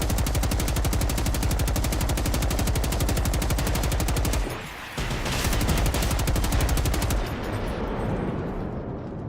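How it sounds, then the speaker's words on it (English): Sustained machine-gun fire in Generation Zero, a dense rapid burst that runs for several seconds, breaks briefly, then resumes and trails off near the end. "Only in this game do you turn to the machine gun because the rocket launcher isn't fast enough."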